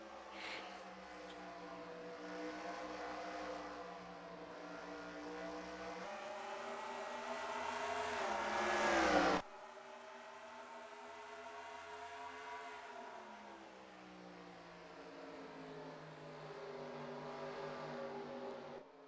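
Stock car engines in the NASCAR Racing 2003 game at Milwaukee drone and whine steadily, rising in pitch, cutting sharply midway, then settling into a continuous moderate roar with no talk.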